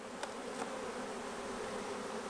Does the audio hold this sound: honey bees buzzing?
yes